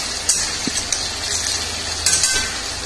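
Stirring vegetarian shahi paneer biryani ingredients in a pan, made without onion or garlic: a steady close frying hiss with a few light metallic clinks of the spoon against the pan.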